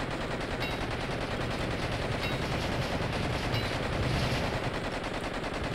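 Dense, continuous gunfire from the video game Blood and Bacon, rapid overlapping shots forming a steady loud barrage with no pauses.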